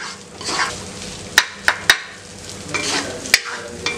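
Prawn thokku stirred into cooked rice in a pan for a prawn fry rice lunch box dish, a soft scraping and sizzling with a few sharp spoon knocks against the pan, close and alone.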